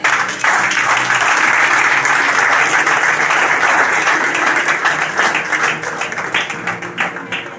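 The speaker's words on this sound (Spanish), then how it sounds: "denle un aplauso a nuestro Dios" A church congregation bursts into applause during a sermon, loud dense clapping that starts abruptly and carries on for over seven seconds, gradually thinning and growing more scattered toward the end.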